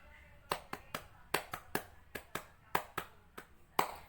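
A Hizbul Wathan scout troop's rhythmic clap pattern: about a dozen sharp, close handclaps in an uneven, patterned beat, alone with no talking.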